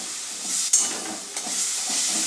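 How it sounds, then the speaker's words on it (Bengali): Tomato chutney with dates and tamarind bubbles and hisses in a pan as it is stirred, a loud continuous steamy sizzle broken by a couple of brief knocks. "তেঁতুলের কাঠ দিয়ে আমরা একটু নেড়ে নেব"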